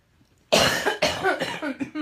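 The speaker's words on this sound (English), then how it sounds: "I've got a cough." A sudden fit of harsh coughing, four or five rough coughs in quick succession, close and loud after a moment of quiet.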